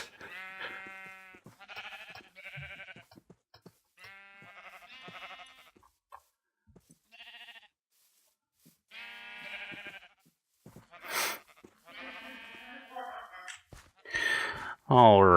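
Sheep in a video game bleat in repeated wavering calls, near and moderately loud, scattered across the clip with short gaps and no one talking.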